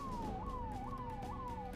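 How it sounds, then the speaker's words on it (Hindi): A wailing siren from a vehicle fitted with a red beacon light sweeps downward in repeated falling tones, about four cycles, loud and steady over low traffic rumble on a city road, with no talking. "सड़कों पर आपको ये लाल बत्ती लगी गाड़ियां और सायरन की आवाज अक्सर सुनने को"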